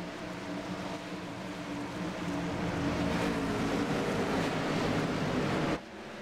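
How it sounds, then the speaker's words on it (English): 850 horsepower stock cars race at Daytona in a sim racing series, making a continuous broad engine roar that builds and holds loud before dropping sharply near the end. "you guys can enjoy the sound of these great 850 horsepower machines"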